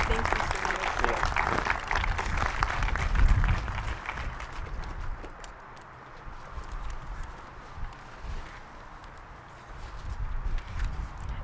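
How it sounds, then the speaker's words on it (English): Audience applause at an outdoor aviation education center ribbon-cutting ceremony, a dense clatter of clapping that thins out midway and then swells again. "So everybody, please give Kira a round of applause."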